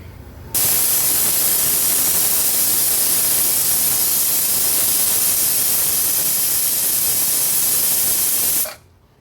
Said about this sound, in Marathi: एक एक करून 3 शिट्ट्या आपण कुकरच्या काढून घेतल्या आहेत.